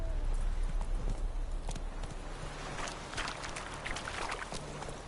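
Horse hooves clip-clop at a walking pace in The Witcher Wild Hunt video game, close and steady over low background ambience.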